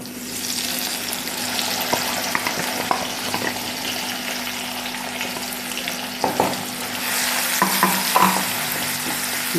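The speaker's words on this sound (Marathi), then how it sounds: "मसाला चांगला फ्राय करून घ्यायचा आहे." Ground green chili masala fries in hot oil with mustard seeds, cumin and curry leaves, a steady close sizzle broken by occasional stirring scrapes of a spoon in the pan.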